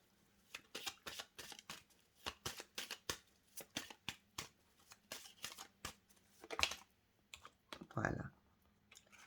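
Tarot cards shuffled and handled on a table, a close series of quick crisp flicks and slaps followed by a softer slide as a card is laid down, with someone talking.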